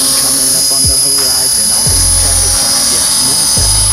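A Tarot 450 drone flies nearby with a steady, high-pitched rotor whine, while low thumps recur every second or two beneath it and someone talks over the sound.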